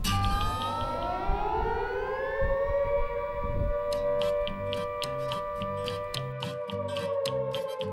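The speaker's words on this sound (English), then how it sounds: "you'll hear this siren play throughout the town to remind you" A town curfew siren sounds across Churchill, Manitoba, a steady wailing tone holding one pitch at moderate loudness. A regular ticking pulse joins it about halfway through.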